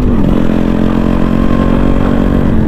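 A Yamaha RXG motorcycle engine runs loud and close with a steady, throbbing mechanical drone, the throttle opened lightly, with no talk over it.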